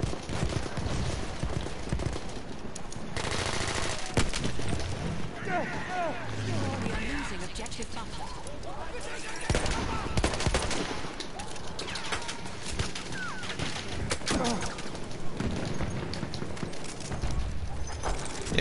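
Constant battlefield gunfire rattles in Battlefield 1, with dense overlapping shots and bursts near and far throughout, while a voice talks over the noise.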